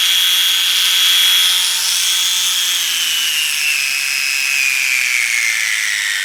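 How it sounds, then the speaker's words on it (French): A Beurer MP62 electric nail sander runs steadily, giving a loud, continuous high-pitched whine whose tone drifts slowly downward, with no voices. "quand j'ai allumé la ponceuse, elle a une mémoire"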